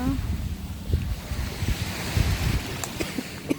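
Ocean waves wash onto a beach in Boracay, a steady low surf rumble with wind noise buffeting the microphone, while people talk nearby.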